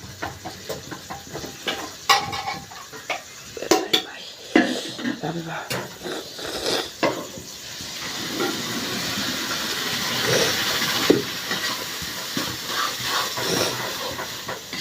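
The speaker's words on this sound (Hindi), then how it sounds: "तो गाइस इसे मैं डालती हूँ और मिक्स कर देती हूँ" A pot of chickpea masala is stirred and mixed with irregular clattering spoon scrapes and knocks, then a broad hissing steam-like sizzle swells and holds, all close by in a village kitchen setting.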